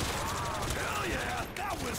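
Custom gun sounds in a zombies mod video game: quiet bursts of rapid gunfire mixed with mechanical clicks and creaks, heard at a distance and softly throughout.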